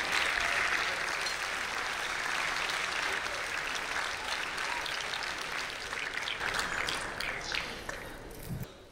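An audience at a company awards gala applauds steadily throughout, a dense wash of clapping that holds strong and tapers slightly toward the end.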